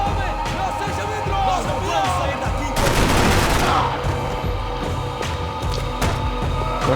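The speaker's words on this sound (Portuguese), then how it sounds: "É, continue atirando." Sustained gunfire from Max Payne 3 in a heavily guarded airport terminal, with a dense burst of shots swelling in the middle and continuing loud and close, while a voice speaks over the firing.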